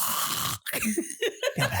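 A man's exaggerated fake snore, a voice imitating snoring: a rough, snorting rasp up close, broken by a short pause and followed by a run of choppy snort-like bursts.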